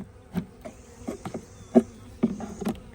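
Honeybees buzz around an open hive during a colony inspection, with a soft steady drone and several close, louder passes as individual bees fly near.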